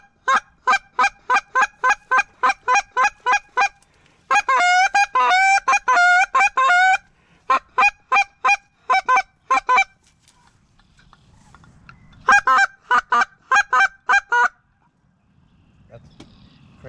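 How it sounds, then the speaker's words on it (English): Geese honking in flight during a duck and goose hunt, loud repeated rhythmic honks in several bursts of calls with quiet gaps between them, one stretch thick with overlapping voices of the flock. "There's a goose right there."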